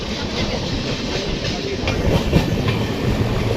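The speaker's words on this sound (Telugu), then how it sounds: "ఏదో ట్రైన్ వచ్చింది ఇంకోటి." A train passes close by on the adjacent track, a steady loud rumble and rolling clatter that stays dense and continuous throughout with no talk over it.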